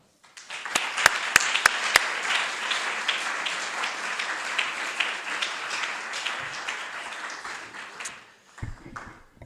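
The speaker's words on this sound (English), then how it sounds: "a very warm round of applause" A seated audience at a design event applauds warmly as a speaker is welcomed to the stage. Sustained, dense clapping with a few sharp individual claps early on tapers off near the end.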